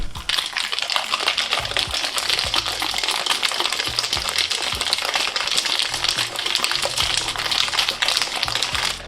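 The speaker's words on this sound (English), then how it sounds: "Now cover this up and give this a good shake." A covered shaker full of ice is shaken hard for a raspberry lemonade mocktail, a loud, dense, continuous rattle of ice against the walls sustained for several seconds.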